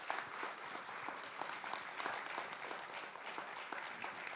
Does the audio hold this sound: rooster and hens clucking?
no